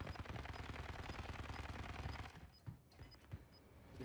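Rapid automatic gunfire from the video game Warzone, firing in a dense burst before breaking into a few scattered single shots, fairly quiet and heard with no talking.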